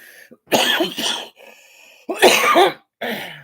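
Several harsh, close coughs in bursts, separated by short pauses, with a brief quieter throat sound between them.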